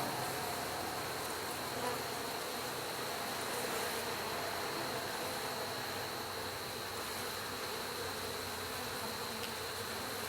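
A dense swarm of honey bees buzzes continuously and loudly close by around an open hive, with a steady droning hum and no pauses.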